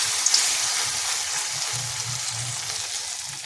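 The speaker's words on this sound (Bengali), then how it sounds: "হালকা তেলে ভেজে নেব" Flattened rice and yogurt snack pieces shallow-fry in a little hot oil in a wok over low heat, a soft, steady hiss and fine crackle with occasional faint low knocks.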